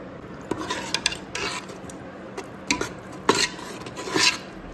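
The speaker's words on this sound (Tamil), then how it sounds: "தயிரை போட்டு நல்லா மிக்ஸ் பண்ணிக்கலாம்." Yogurt is being stirred into biryani masala inside a pressure cooker, with irregular scraping and clinking of a spoon against the metal pot in short bursts, close up and with no voices.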